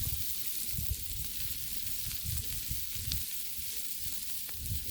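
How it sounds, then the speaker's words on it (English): Smoked sausage sizzles and fries with cabbage on a Blackstone griddle, a steady close crackle and hiss with bursts of stirring and scraping throughout. "Now what we'll do is we'll just start adding some of the smoked sausage into it."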